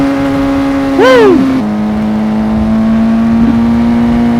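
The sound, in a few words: motorcycle revving while doing a wheelie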